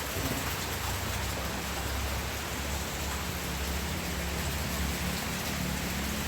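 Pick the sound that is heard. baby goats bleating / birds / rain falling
rain falling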